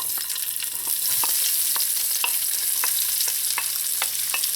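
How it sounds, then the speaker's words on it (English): Onions sautéing in a pot with browned spice seeds give a steady, loud sizzle, broken by regular clicks and scrapes of a spoon stirring every half second or so, with no voices. "I'm going to add in my onions."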